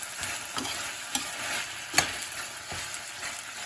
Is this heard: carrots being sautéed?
yes